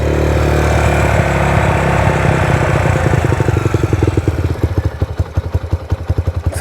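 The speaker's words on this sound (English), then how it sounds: "Gave it a little gas and it's almost like it's hanging up." A Raptor 125 ATV engine with a high idle and bog-down fault, given a little throttle and then hanging up at elevated revs, ending in a loud, close, uneven chugging pulse.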